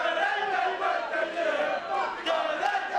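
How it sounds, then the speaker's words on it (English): An arena crowd in a wrestling video game sings a wrestler's entrance theme in unison, a loud sustained chant of many voices rising and falling in a melodic pattern. "Another crowd singing his entrance theme."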